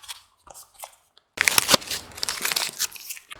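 Toca Boca collectible blind packet being torn open, a few soft rustles followed by loud close crinkling and ripping of plastic foil lasting about two seconds.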